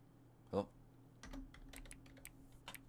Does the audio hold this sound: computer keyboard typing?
yes